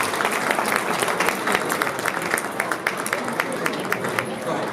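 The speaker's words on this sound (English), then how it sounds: "Please give him a round of applause." Audience at a unity dinner in an Islamic community hall applauding steadily, dense continuous clapping from a large crowd with background murmur throughout.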